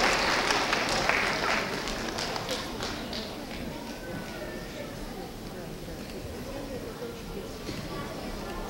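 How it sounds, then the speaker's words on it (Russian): Audience applause at a children's stage event, steady broadband clapping from a crowd that is loudest at the start and gradually thins, with some voices mixed in. "смотрим на зрителей, и мы аплодируем нашему золотому ключику"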